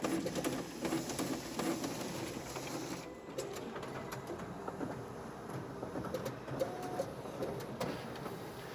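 A Konica Minolta i-series copier with a staple finisher runs a continuous mechanical whir and chatter, close and steady, as documents are fed, copied, stapled and three-hole punched in an office.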